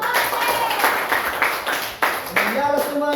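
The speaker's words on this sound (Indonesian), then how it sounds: "Oke, tepuk tangan dulu." Junior high school students clap together in a classroom, a burst of rhythmic, fairly close hand claps in quick succession, mixed with voices of children talking and calling out.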